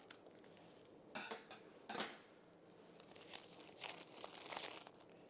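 Several short crisp snips and crinkles of greaseproof paper being cut with scissors, close by, with brief pauses between cuts and no talking.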